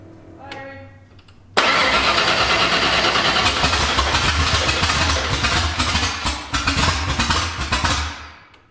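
A 1989 Ford F-150 engine cranks loudly and tries to fire, a sudden surge of rough mechanical roar that holds steady for several seconds before fading, after a quieter stretch of low rumble.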